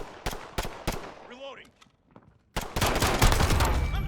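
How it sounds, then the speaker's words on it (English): Pistol gunfire in the Call of Duty: Modern Warfare video game: several sharp, loud shots in quick succession, a brief lull with a whooshing effect, then a dense burst of rapid, heavy firing. "Quite satisfying to use the pistols."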